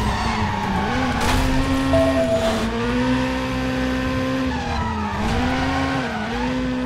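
A Nissan skids and squeals its tires through a turn in the Driver San Francisco video game, a sustained wavering screech over a steady engine drone, loud and continuous with rising and falling pitch.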